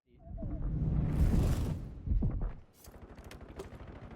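Call of Duty gunfire, bursts of shots and whooshing impacts dense at first, then thinning into scattered cracks with a voice talking over it.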